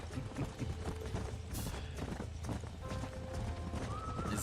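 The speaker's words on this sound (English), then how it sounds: "This is my horse." Clip-clop of horse hooves with a whinny in the Red Dead Redemption video game, a quiet, steady hoofbeat rhythm running throughout, with a brief higher-pitched whinny toward the end.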